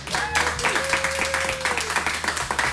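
A live studio audience at a music show claps steadily for a musical guest, with a tonal voice or instrument line briefly sounding over the applause.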